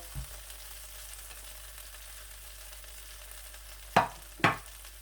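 Chicken pieces fry in a pan with a soft, continuous sizzle. Near the end, two sharp scraping clacks sound as the pieces are pulled apart, and no one speaks.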